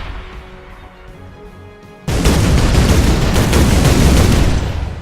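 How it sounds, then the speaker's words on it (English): A tank fires a sinkhole shot in the game Shellshock Live: after a quieter stretch, a sudden loud blast opens into a sustained, roaring rumble of explosions that rolls on for several seconds before easing slightly. "I'm just going to decrease it by 4 and fire another sinkhole shot."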